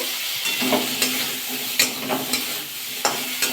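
Pieces of cauliflower fry in a pan with a continuous close sizzle, while a utensil stirs them in repeated quick scrapes and taps, and nobody speaks.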